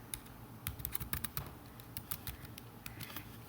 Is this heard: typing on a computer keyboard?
yes